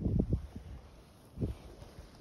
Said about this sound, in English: why I try to shelter the mic from the wind, because it's supposed to be 45 mile an hour wind gust today